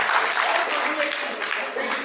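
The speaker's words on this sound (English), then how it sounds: "when Colonel Shekhar says to clap, you better clap" A crowd claps steadily throughout, a dense patter of many hands with a few sharper bursts, fairly close.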